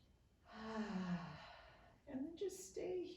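A relaxed person in a yoga session takes a big, audible breath, a long voiced sighing inhale-exhale, then a brief pause and a few shorter breathy sounds, close and quiet.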